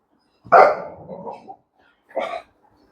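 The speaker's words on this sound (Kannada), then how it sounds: "ನಮ್ಮ ನಾಯಿ ಇವಾಗಲೇ ಬೊಗಳ್ಬೇಕು" A pet dog barks twice at close range, with a long first bark trailing into a growly tail and a shorter second bark after a brief pause, with no other sound around it.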